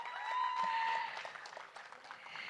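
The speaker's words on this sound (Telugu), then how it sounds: "ఒక్కసారి ఆవిడకి కూడా గట్టిగా చప్పట్లు కొడదామా?" An audience at a film teaser launch event claps in a sustained burst of applause, moderately distant and somewhat faint in a large hall, tapering off after a couple of seconds.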